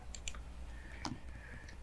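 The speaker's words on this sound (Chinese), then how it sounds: "点击打印机设置" A computer mouse clicks while printer settings are adjusted, a few quiet, sharp, isolated clicks spaced irregularly over a faint background hiss.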